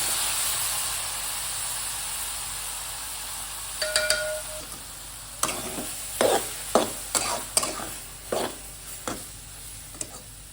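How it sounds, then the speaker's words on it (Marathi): Cooked dal for puran poli going into hot ghee in a pan: a steady hiss of frying, then a run of close, rhythmic stirring and scraping strokes. "कडेत टाकणार आहे थोडंसं तूप आपली मऊ शिजलेली डाळ टाकणार आहे"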